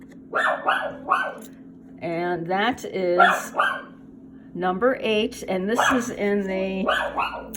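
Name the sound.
dog barking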